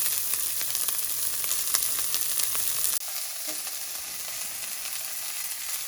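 Vegetables stir-frying in a hot wok with ginger and garlic give a steady, loud sizzle with scattered crackles, thinning into a softer hiss as the pan settles partway through.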